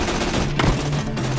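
Gunfire from the video game Tales from the Borderlands, steady bursts of shots running continuously through the short moment with a louder blast near the middle, no talking over it.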